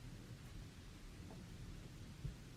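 Rain and thunder ambience: a faint, continuous low rumble of thunder beneath the soft wash of steady rain, with no voices.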